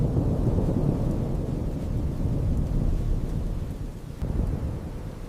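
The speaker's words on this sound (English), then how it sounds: "Outside, the storm was beginning to fade." A thunderstorm rolls on with deep continuous rumbling thunder and steady heavy rain, a dense low roar with wind buffeting, loud and unbroken.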